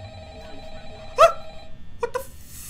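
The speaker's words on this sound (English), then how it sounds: "Come on, Scott, give me a phone call" A telephone in the horror video game Five Nights at Freddy's gives a ringing burst amid a hum of electronic tones, then a second, shorter ring follows a moment later.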